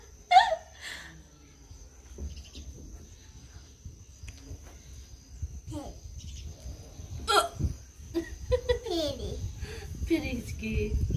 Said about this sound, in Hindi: फिर हिचकी